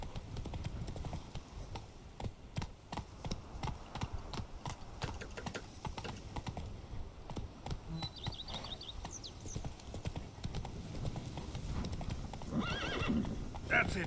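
Roach, a horse in The Witcher 3, gallops with steady rapid hoofbeat clip-clops throughout, a neigh breaking through near the end, loud and close.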